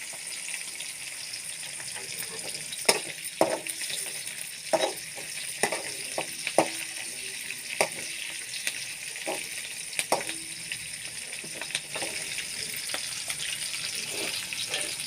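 Onions frying in a pan, a steady soft sizzle with scattered sharp clicks and taps of stirring or utensils, close and moderate in level, with faint kitchen background and no talking.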